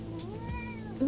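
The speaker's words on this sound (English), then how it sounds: "My cat is trying to get here" A house cat gives a single drawn-out meow close by indoors, rising and then falling in pitch, with no one talking over it.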